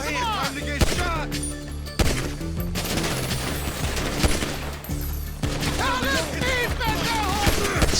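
Gunfire in GTA V during a street shootout: dense bursts of rapid shots and heavy impacts over a constant game soundtrack, with character voices and musical tones mixed in.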